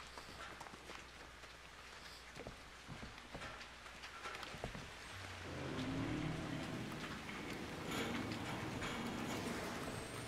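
Steady rain falling in a dark horror game setting in Outlast 2, a soft hiss of drops on surfaces with scattered patters and low rumbling, growing denser and slightly louder partway through.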